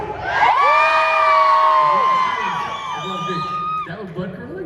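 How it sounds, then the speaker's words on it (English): A large fan-convention audience screams and cheers loudly on cue, a dense wall of shrieking voices that swells, holds for a few seconds and then breaks into scattered shouts as it fades. "Blood-curdling screams for everybody who thinks this shirt is too short!"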